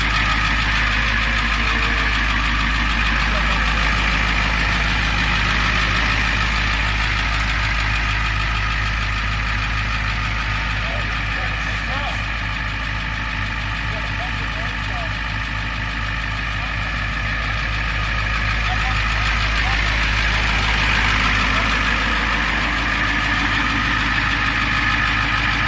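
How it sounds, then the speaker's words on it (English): 1990 Ford F250 XLT Lariat 4WD pickup with a 7.3 diesel idling steadily nearby, a continuous rattling, knocking drone at constant loudness throughout. "It's a 1990 Ford F250. As you can tell by the sound, it is diesel."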